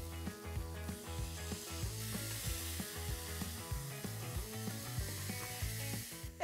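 Slices of beef tagliata sear in a hot pan with a steady, hissing sizzle, close and even throughout, with faint background clatter and no voices.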